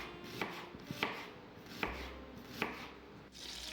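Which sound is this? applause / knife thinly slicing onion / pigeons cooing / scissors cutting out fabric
knife thinly slicing onion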